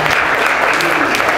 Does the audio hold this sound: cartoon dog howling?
no